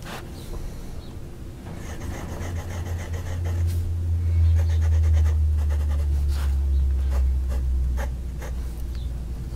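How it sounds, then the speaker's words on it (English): A Moonman N3 fountain pen nib scratching and gliding across paper in close, steady strokes with small ticks, over a low rumbling hum that swells in the middle. "So this nib is smooth. It's an effortless writer. You know, you can feel it on the paper."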